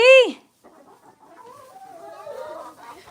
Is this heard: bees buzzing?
no